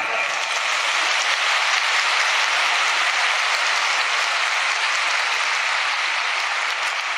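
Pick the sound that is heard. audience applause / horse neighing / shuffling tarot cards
audience applause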